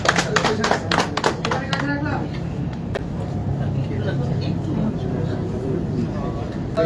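An audience at a gathering honoring a blood bank applauds with a burst of hand clapping at the start, fading within a couple of seconds into a murmuring crowd and room noise.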